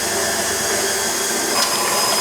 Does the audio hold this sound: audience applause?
no